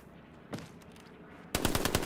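Video game gunfire ending in a headshot: a single sharp shot, then a pause and a loud rapid automatic burst of several close, punchy rounds.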